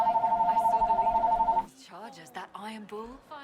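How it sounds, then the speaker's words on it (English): A telephone rings with a steady, loud electronic trill for about a second and a half during a Dragon Age: Inquisition game session, then stops as speech and game dialogue take over. "Wouldn't be a stream without the phone ringing."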